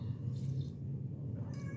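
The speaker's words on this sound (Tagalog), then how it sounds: "May pusa." A cat meows softly twice, short and fairly close, over a steady low background hum, with no talking.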